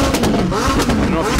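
A McLaren sports car engine revs loudly and close by, with rising and falling engine tones packed into a short, dense burst.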